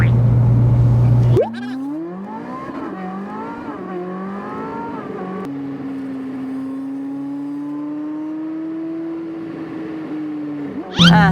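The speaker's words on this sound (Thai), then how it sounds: "ตอนนี้กำลังขับรถนะคะ ไปเติมน้ำมัน" A car is being driven to a fuel station with its tank running empty. The engine hum rises and falls in pitch, then holds a steady drone, with abrupt louder noise at the very start and end.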